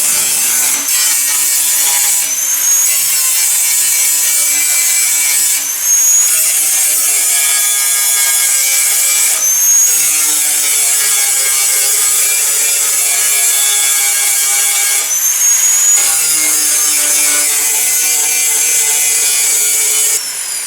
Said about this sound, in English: I'm going to grind this weld off.